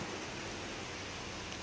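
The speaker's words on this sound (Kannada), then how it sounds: "ಮಳೆ ಬಂತು" Rain falls as a dense, even hiss of steady pouring, brief and unbroken, with no voices.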